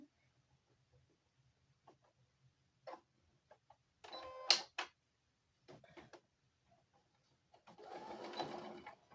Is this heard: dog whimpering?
no